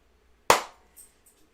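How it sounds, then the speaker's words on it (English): A single sharp hand clap at the start of a podcast recording, loud and close, followed by a few faint small noises in a quiet room. "I'm supposed to clap first."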